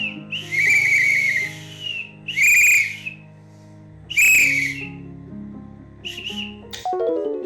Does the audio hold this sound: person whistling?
yes